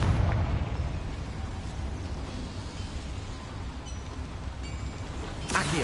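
A Confringo fire spell bursts in an underground mine in the video game Hogwarts Legacy: a loud, rumbling explosion at the start fades into a lingering roar, and a second sharp burst hits near the end.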